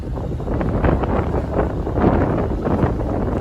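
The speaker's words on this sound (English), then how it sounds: "It is currently windy, too windy out here." Strong wind buffets the microphone in loud, continuous gusts, a rough low roar that swells and eases without pause.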